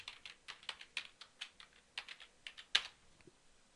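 Typing a password on a computer keyboard, a quiet run of light, irregular key clicks with one sharper tap near the end, heard alone.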